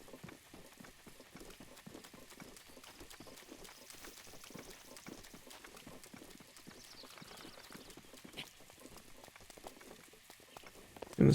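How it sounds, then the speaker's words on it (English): Steady rain falls in a video game, a dense, even patter running throughout at moderate level, with scattered soft thuds beneath it and no voices. "it figures it starts fucking raining"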